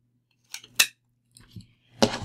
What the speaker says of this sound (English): we're going to come in with a little small heart punch